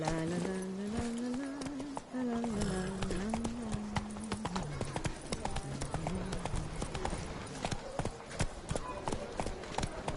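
Hooves of Roach, the horse in The Witcher 3, clip-clop in a fast, steady rhythm throughout, close and clear, while a voice talks at the start and music plays underneath.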